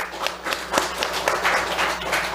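A church congregation applauds during a Sunday worship service, a brief burst of scattered, uneven clapping from a crowd that rises and falls without a settled rhythm.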